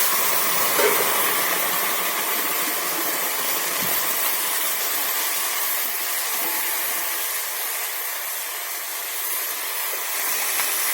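Spiced water hits a hot pan of browned egg curry masala, giving a steady loud hiss of sizzling and steam that holds evenly throughout without a break.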